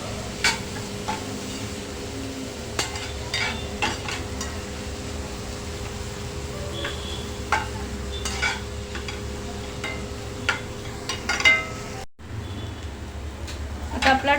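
Finely chopped small tomatoes tossed into onions and sautéed in a pan, with a steady soft sizzle and occasional spatula scrapes and stirring knocks throughout.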